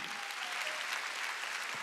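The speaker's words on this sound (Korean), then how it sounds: "박수 안 치네 이 사람들." A church congregation at a Sunday healing service claps in a steady, dense applause, fairly distant and even throughout, with no voices over it.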